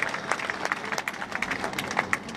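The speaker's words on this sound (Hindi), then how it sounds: "दोनों हाथ उठाकर और इनका ताली बजाकर अभिनंदन और स्वागत करें" An audience at a social conference gathering in Balotra claps in welcome, a steady patter of many hands with brief louder bursts, moderately near and without talk.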